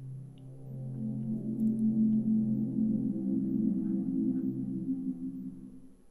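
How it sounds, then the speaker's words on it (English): An Amazon Echo Dot 3rd Generation plays its boot-up chime after being plugged in: a soft, sustained, swelling electronic tone held for several seconds at moderate level, alone with no talking. "So I've just gone ahead and plugged in the Amazon Echo Dot. I'll let it go through its short boot up process here."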